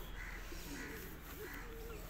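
Pet pigeons kept at home coo in soft, repeated low calls, fairly close, over a steady background hum.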